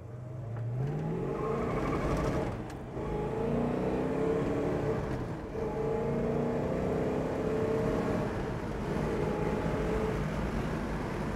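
A 1969 Plymouth GTX accelerating hard on a test drive, the engine note climbing through rising revs with a brief dip at a gear change, loud and steady from inside the car.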